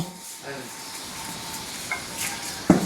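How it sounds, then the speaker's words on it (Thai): Pork being stir-fried in a pan, a steady sizzle with scraping stirs and a sharp clank of the utensil near the end, with voices faintly in the background. "เพิ่นเฮ็ดเมนูผัดหมู"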